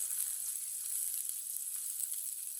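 Chopped onion frying in a pan until lightly browned for a moong dal recipe, a steady, fairly quiet high sizzle that holds unbroken throughout with no talk.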